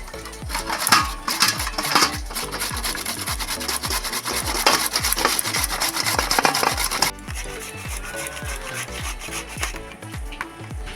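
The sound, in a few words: peeling mankochu (giant taro) with a peeler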